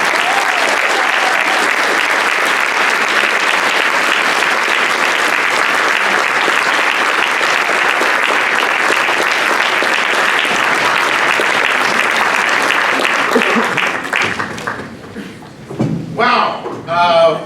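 An audience applauds to welcome a poet at an event for educators, loud, dense sustained clapping from a large crowd that fades near the end as a voice begins speaking.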